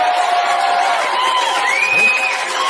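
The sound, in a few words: audience clapping and cheering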